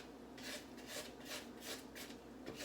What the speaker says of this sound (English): Now I'm going to stop and take my scraper and scrape down the sides.